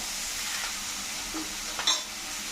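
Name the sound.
vegetables and spinach added to hot pan, sizzling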